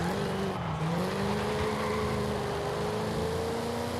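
A 5.7-liter V8 car in Forza Horizon 5 accelerates steadily, its engine note rising through the revs, loud and continuous with no talking.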